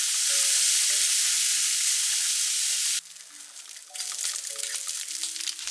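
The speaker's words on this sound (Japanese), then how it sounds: "舞茸も加えて炒めたら" Maitake mushrooms stir-frying in a pan, a steady hissing sizzle that drops suddenly then resumes with crackling as the pan is stirred, with a soft musical tune playing underneath.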